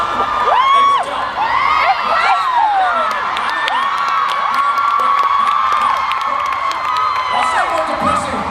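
A VidCon 2017 audience at a Markiplier Q&A cheers loudly, with whoops and high excited shouts rising and falling over a dense crowd roar.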